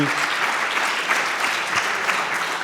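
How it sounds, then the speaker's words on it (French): Audience applause fills the room after a conference talk and question period on data, a dense, steady wash of many hands clapping at close range for the whole stretch. "On donne une autre main d'applaudissement"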